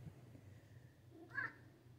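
A single short meow from a pet cat, Siamese or Manx, rises briefly about two-thirds of the way through, fairly faint over a low indoor hum.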